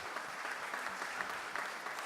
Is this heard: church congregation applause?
yes